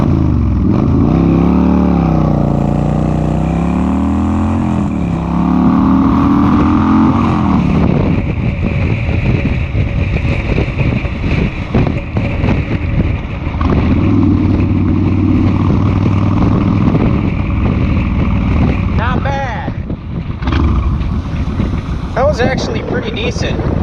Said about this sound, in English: here we go, 0 to 60, 2007 Kawasaki Vulcan 1600 mean streak